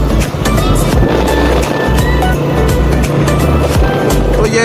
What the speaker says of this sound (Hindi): तो मैं बाइक पे जा रहा हूँ